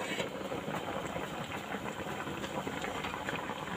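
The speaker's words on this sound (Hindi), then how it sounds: "पूरा उबल रहा है, आवाज़ आप सुन सकते हैं आवाज़।" A pot of fish curry with bamboo shoots boils hard, giving a continuous even hiss and rumble of bubbling that stays close and steady throughout.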